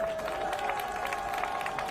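Crowd at a political speech applauding in a dense, even wash of claps that stays moderately loud throughout, with a steady tone humming beneath it.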